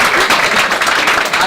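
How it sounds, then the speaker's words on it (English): A room full of hackathon attendees gives a dense, steady round of applause for the first-timers, loud and close, with no talk over it. "everybody give them a round of applause"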